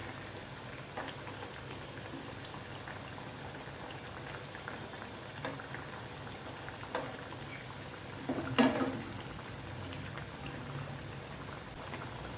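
Dal vada made with tur dal fry in oil over medium-low heat, a steady dense bubbling and crackling sizzle that runs throughout, with a few louder pops near the end and no voices.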